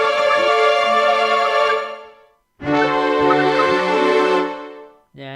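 A KORG Wavestate synthesizer plays an orchestra sequence sloppily with layers out of sync, giving two sustained, bright harmonic chords separated by a brief gap, with a short third chord starting at the end.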